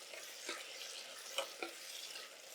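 Grated garlic being stirred into cooked onions in a pan, a soft steady sizzle with a few quiet spoon scrapes, faint and close.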